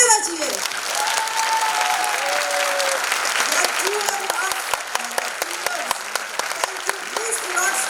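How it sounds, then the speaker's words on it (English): A crowd at a school's silver jubilee celebration applauds for a long stretch with sustained, dense clapping, while a voice talks over it and a few sharper individual claps stand out toward the end. "Please do not stop clapping."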